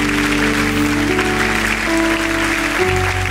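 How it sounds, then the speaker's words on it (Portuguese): A church congregation applauds together, a loud, continuous wash of clapping with a steady musical tone sustained underneath. "Vamos aplaudir a Jesus"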